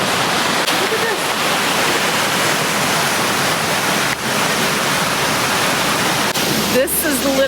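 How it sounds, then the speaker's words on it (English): Wakina Falls pours in a loud, continuous broadband roar close by, with faint voices briefly audible near the end. "Wakina Falls."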